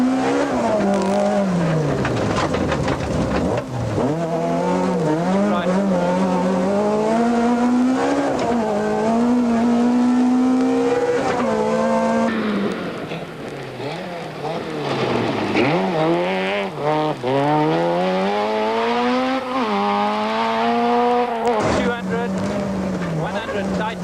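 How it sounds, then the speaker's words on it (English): A 1995 Volkswagen Golf rally car runs through a stage. A strong rising and falling engine note carries a whining drivetrain tone layered over it, loud and continuous as the car accelerates and slows through the bends. "The Golf is visibly slower through the stage, and the sound of the drivetrain can be heard above the engine."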